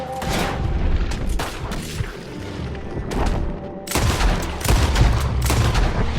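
Gunfire in Red Dead Redemption 2 during an outdoor fight: loud, repeated rifle and pistol shots and booming blasts, in dense bursts with a brief lull midway before the firing resumes.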